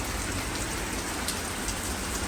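Heavy rain pours steadily in London, a dense, even hiss of drops on surfaces that continues unbroken and close, with no voices.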